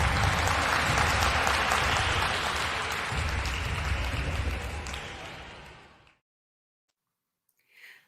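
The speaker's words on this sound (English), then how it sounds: "Let's give a round of applause to the 2021 inductees." An audience applauds the 2021 inductees at the Area Agency on Aging of Broward's annual ceremony, a full, lively round of clapping that gradually thins and fades to silence, then a brief faint sound at the end.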